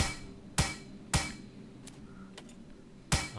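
Sharp metallic hammer strikes on a car in the survival game Plains of Pain land at irregular intervals, three loud impacts with a couple of fainter knocks between, no talking.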